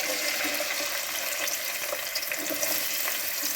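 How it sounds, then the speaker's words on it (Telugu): Onion pieces dropped into hot oil for an Andhra-style fish curry, giving a steady, loud sizzle and hiss that fills the whole moment without letup, close by with no voices. "చూడండి ఉల్లిపాయ ముక్కలు వేస్తున్నాను."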